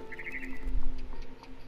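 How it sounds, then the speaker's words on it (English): A barn swallow in What Remains of Edith Finch gives a few quick, light chirps near the start, fairly faint over a steady background hum. "Then I heard chirping outside my window. It was a barn swallow going back to her nest."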